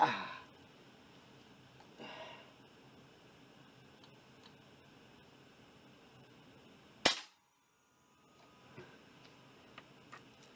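An AEA 357 Challenger Pro air rifle fires one sharp, loud crack that is followed by quiet, with faint clicks and small handling noises before and after the shot.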